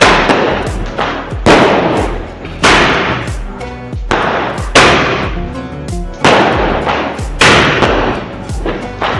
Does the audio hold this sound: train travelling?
no